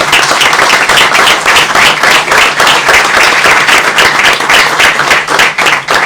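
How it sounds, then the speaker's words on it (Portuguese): Loud, sustained applause from a large audience at a book launch, dense rapid clapping filling the room continuously without pause. "estão aqui filhos do José Luciano de Matos, para quem eu peço uma salva de palmas."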